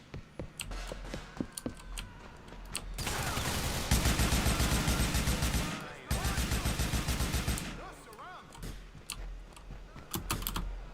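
AK assault rifle firing in Grand Theft Auto IV, heard as two long, loud, continuous automatic bursts with a short break between them, framed by scattered sharp clicks before and after.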